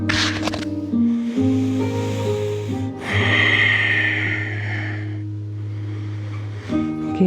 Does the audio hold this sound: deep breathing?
yes